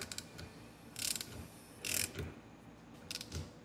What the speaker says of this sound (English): then you turn this with the socket. So I'm going to crank that, and hopefully that will not break this puller